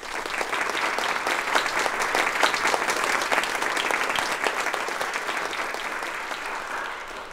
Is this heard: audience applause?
yes